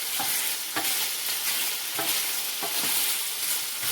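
Little weenies sizzle and brown in a pan with a constant fry hiss broken by repeated scraping stirs at a steady rhythm.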